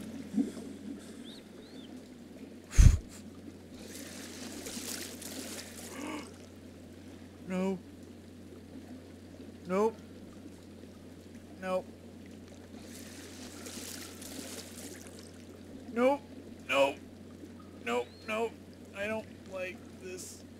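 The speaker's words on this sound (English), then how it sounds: "Sound when I'm walking in the water." Footsteps wade through water in the horror game Amnesia, a series of sloshing splashes that come sparse at first, then more rapid near the end, over a steady low hum and watery ambience.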